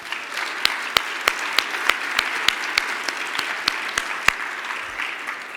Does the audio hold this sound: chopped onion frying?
no